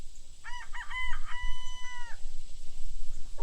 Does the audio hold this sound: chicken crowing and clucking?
yes